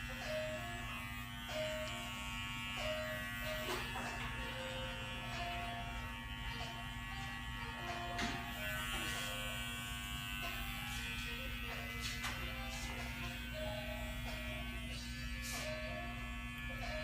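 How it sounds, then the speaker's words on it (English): An electric hair trimmer buzzes steadily during a haircut, a faint continuous hum with small clicks and scraping as it moves through hair, with no talk over it. "So right now we're going to follow through with the trimmer."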